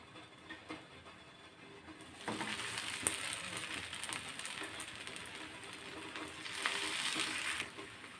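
A homemade snack hits hot oil in a pan and fries with a loud, dense sizzle that swells after a couple of seconds, with light scraping from a spatula, close and without speech.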